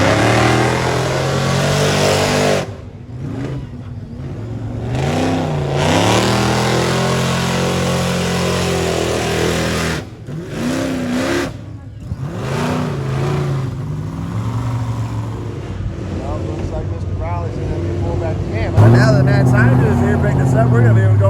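A 1,300-horsepower supercharged LS engine, apparently at a mud ranch event, revs hard in loud, sustained bursts with brief drops between them, while people talk over the roar.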